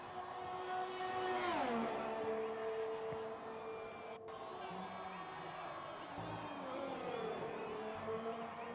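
A race car engine in the F1 2020 game at Suzuka, Japan, revs through gear changes on a flying qualifying lap, rising and dropping in pitch, heard faintly behind crowd ambience.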